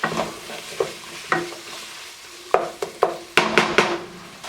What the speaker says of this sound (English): I'm going to go ahead and throw our onion in there. Stir that up.